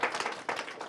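Audience applause at a youth startup pitch competition final, a dense wash of many hands clapping steadily through a short burst, fairly loud and close with no voices over it.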